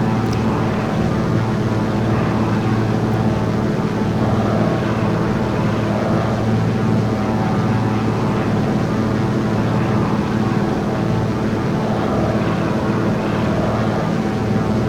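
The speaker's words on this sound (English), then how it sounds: "hearing this aircraft was just spectacular" A Thranda Beaver propeller plane in the X-Plane 12 flight simulator, its engine and prop holding a loud, steady droning hum in cruise, unbroken and without talk.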